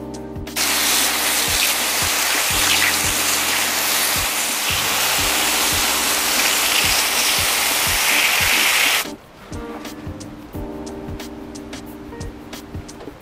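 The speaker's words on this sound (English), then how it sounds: "we're gonna see if this is IPX6 water resistant with my high pressure hose" A high-pressure hose blasts water onto an OLight PL-Mini 2 Valkyrie 2 weapon light in a water-resistance test: a loud, steady hiss for about eight seconds that cuts off abruptly, leaving intermittent clicks and knocks.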